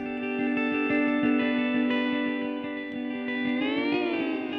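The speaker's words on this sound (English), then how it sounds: "Okay, let's play it with the echo." Guitar loop played through an Ableton Live Echo delay effect, sustained chiming tones with steady rhythmic picking and repeating echoes, shifting pitch near the end, loud and alone with no talk.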